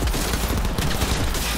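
Dense, continuous gunfire from a firefight in Cyberpunk 2077, loud and heavy, with overlapping shots forming an unbroken roar and no talk.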